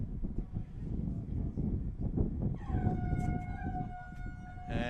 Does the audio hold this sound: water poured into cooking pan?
no